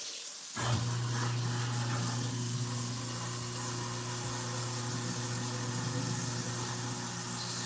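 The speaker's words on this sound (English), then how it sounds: "Dump a little bit of water in there." Water runs into a garbage disposal under repair in a kitchen sink, starting suddenly and then continuing as a steady close rush with a low hum beneath it.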